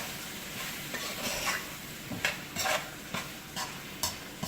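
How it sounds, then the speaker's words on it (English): Chicken stirred in a pot for Jamaican coconut curry chicken and shrimp gumbo, a spoon scraping in irregular bursts over a low steady sizzle, close and fairly loud with no talking. "I'm going to stir this and cook this together"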